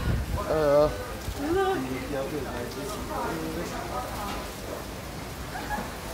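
Rain falls steadily at a resort in the Maldives, a soft constant patter and hiss running beneath people chatting.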